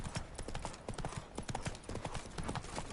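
Roach the horse from The Witcher 3 gallops, its hooves beating a fast, steady clip-clop rhythm throughout, loud and close, with nobody speaking.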